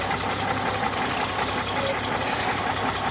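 A heavy diesel engine of a 1965 Mack B61 dump truck idles steadily in neutral with a low rumbling throb, loud and close, running evenly without a break.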